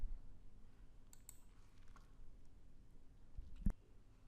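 A single computer mouse click, close and fairly sharp, comes near the end of a quiet stretch of faint room tone. Softer ticks come earlier and no one speaks.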